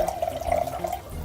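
Water pouring from an electrolytic water ionizer into a clear glass, a steady close trickle with a ringing liquid tone throughout.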